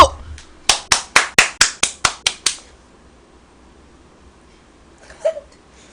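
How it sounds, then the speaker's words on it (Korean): About nine sharp hand claps come in quick, even succession after a short pause, close and loud at a small drinking session. They stop abruptly, and a brief voice follows in the quiet afterward. "오늘 수고하신 사장님께 박수!"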